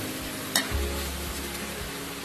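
Shrimp frying and simmering in a pan with sugar and black pepper, giving a steady sizzle with stirring scrapes and one sharp clink early on, close and alone with no talk.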